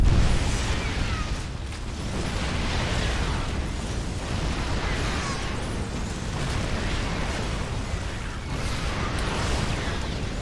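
Explosions from a StarCraft 2 Terran mech match, a dense continuous wash of booms and bursts layered over game effects, loud and steady throughout with no voices.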